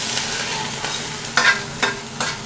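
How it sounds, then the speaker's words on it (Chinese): Marinated chicken pieces, coated in soy sauce and tapioca starch, pan-fry in a little oil with a steady close sizzle and a few louder crackles and stirring scrapes, no talking. "然后就来这里煎了啦，放少少的油来煎啊"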